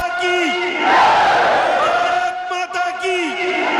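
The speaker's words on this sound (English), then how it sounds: "addressing a mammoth, ecstatic crowd" A huge, ecstatic crowd at a Prime Minister's political rally in Palnadu, Andhra Pradesh, chanting and cheering in loud rhythmic waves while a voice speaks over them.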